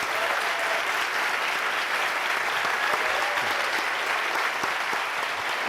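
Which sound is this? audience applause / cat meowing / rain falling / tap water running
audience applause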